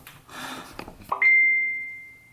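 A phone notification chimes: one clear, ringing ding that rises out of soft background noise and fades slowly over about a second.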